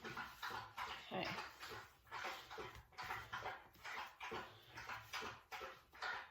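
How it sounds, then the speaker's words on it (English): A dog laps water from its bowl with quick, rhythmic, wet slurps, faint and steady at a regular pace, with a voice quietly speaking over part of it. "can you hear my dog drinking? She's a very loud drinker of her water"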